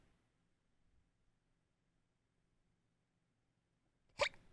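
A single sharp hiccup breaks out near the end after several seconds of near silence with faint low room noise, loud and close.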